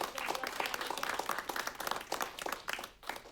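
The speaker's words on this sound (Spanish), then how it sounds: "Dale un aplauso al Señor ahí." A church congregation claps together in a dense, steady burst of applause, loud and continuous before tapering off at the end.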